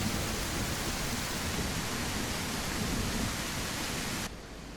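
Rain and thunder weather effects in the Trail Cam horror video game: a dense, steady hiss of rainfall with low rumbling underneath, holding constant and then dropping off abruptly near the end.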